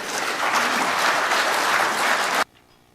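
Audience applause at a British Constitution Group conference in 2017, a dense, loud burst of clapping that stops abruptly, leaving near silence.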